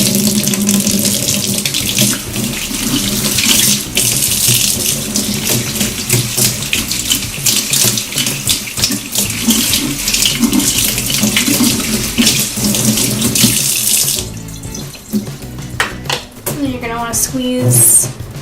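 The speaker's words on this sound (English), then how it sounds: "then you're gonna rinse it off under water" Tap water runs steadily and loudly into a kitchen sink over makeup brushes being rinsed, splashing close by, then the flow changes near the end with brief clattering handling sounds.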